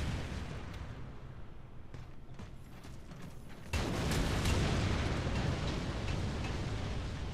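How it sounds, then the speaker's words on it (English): A tank in Warhammer 40000 Eternal Crusade fires, one heavy blast midway that gives way to loud rumbling and mechanical clatter, after a quieter stretch of distant battle noise. "Is that a tank?"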